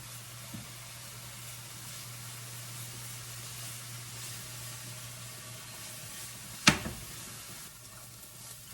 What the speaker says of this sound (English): I'm just kind of browning this garlic on a medium heat.